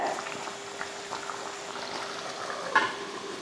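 Country chicken gravy, Madurai style, simmers in a pot with a soft, steady bubbling and faint liquid burbles, plus one brief louder stir or bump near the end, with no voices.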